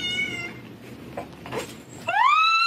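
A cat meows twice, once at the start and again near the end with a rising, drawn-out cry. Soft clatter and rustling fill the gap between the meows, and no one speaks.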